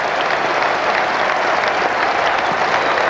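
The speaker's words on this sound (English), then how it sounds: "And listen to the applause here." A cricket crowd applauds a one-day international century at the 1999 World Cup, Australia versus Zimbabwe: dense, sustained clapping from a large stadium audience with no speech.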